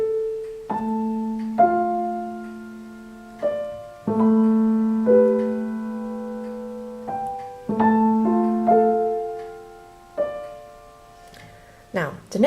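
Solo piano plays a short, slow passage of a theme, single notes and chords struck one at a time and left to ring and decay, close and clear.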